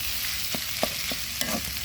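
Fish sizzles steadily in a hot pan for a mashed fish dish, with a few sharp clinks of stirring breaking through the close, continuous frying hiss.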